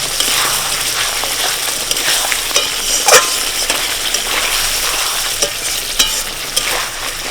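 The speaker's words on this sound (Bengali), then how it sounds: "চাপা খুলে একটু মাছটা ভালো করে একটু নাড়াচাড়া দিয়ে নেব" Magur fish frying in a pan while being stirred, a steady loud sizzle with scraping and occasional clinks of the spatula against the pan, continuous throughout with no talking.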